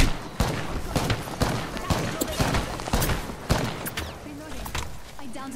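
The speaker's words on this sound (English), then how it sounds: "They're shooting at me." Gunfire from a PS4 shooter game crackles in repeated bursts and sharp single shots throughout, loud and dense, with some scattered thuds.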